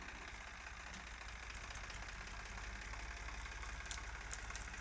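A Powertrac tractor engine, fitted with a laser land leveler, runs steadily at a low idle, a continuous rumbling drone with a faint knock, close and even throughout with no talking.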